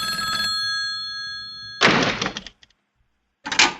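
A telephone rings with a bright bell tone at the start, followed by a thud and a clatter like a door or handset being handled, close and clear.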